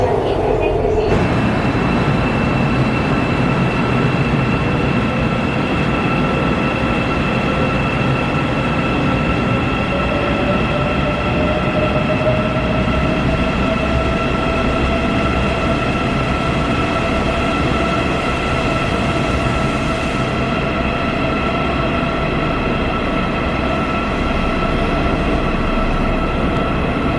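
Steady interior rumble and hum of a Korean bullet train underway, a continuous loud drone with a faint whine and a voice speaking over it.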